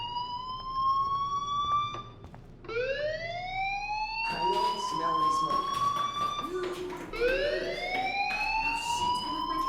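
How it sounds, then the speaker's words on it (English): A fire alarm inside the game Life is Strange wails in repeated rising sweeps, each tone climbing then holding steady, looping several times at moderate loudness with faint background clatter. "Hey, do you hear that fire alarm?"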